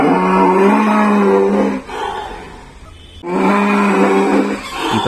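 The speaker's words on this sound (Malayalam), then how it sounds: "ഈ പശുവിൻ്റെ അമറിച്ച അല്ലെങ്കിൽ കരച്ചിൽ ഒരു പ്രത്യേക രീതിയിലാണ്" A cow suffering from rabies bellows loudly and close by, two long, strained, harsh calls separated by a brief quiet gap, with no talking.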